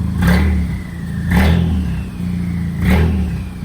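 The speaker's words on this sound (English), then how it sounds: "I'm gonna give it a slight little rev" A Volkswagen Jetta GLI with a catless downpipe and turbo gets three short, loud revs about a second and a half apart, each rising and falling back to a deep idle rumble between blips.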